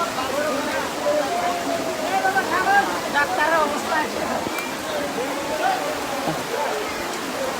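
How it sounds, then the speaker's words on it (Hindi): Rain pours steadily in India, a dense continuous hiss with scattered drops, heard close and unbroken while faint voices murmur underneath. "पानी बरस रहा है।"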